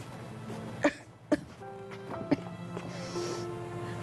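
Several short, harsh coughs from one person close by, spaced a second or so apart, with a quiet background.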